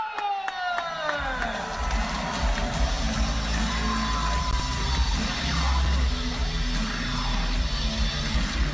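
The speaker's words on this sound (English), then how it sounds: "Ooh, listen to that crowd pop" Wrestling-show crowd cheers and yells as Chael Sonnen makes his entrance, a loud, sustained roar with whoops and shouts building from a descending tone at the start.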